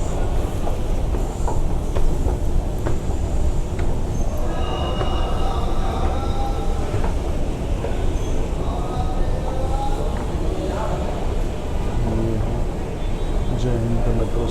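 Metro train running at Jai Hind metro station, a steady continuous rumble with clattering rail noise and a busy station hubbub, voices mixed into the background throughout.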